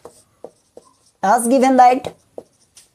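Short scratchy marker or chalk strokes on a board during a maths class, several brief separate strokes before and after a spoken phrase from a nearby teacher.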